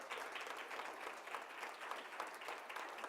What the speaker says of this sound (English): Give him another round of applause for what he just gave us.